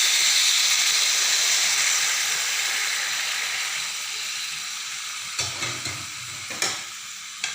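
Water poured into a hot pan of soybean mixed vegetables sends up a loud, steady hiss of steam that slowly eases. Near the end come a few quick clinks and knocks from the pan or spoon.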